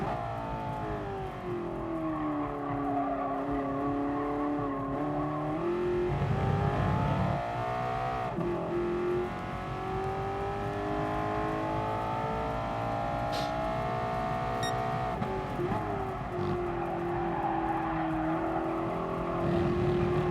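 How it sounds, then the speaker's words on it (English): Racing car engine in the GT Sport video game, continuous with rising and falling revving pitch as it accelerates and shifts gears, fairly close and steady. "Just listen to this car. How good does it sound?"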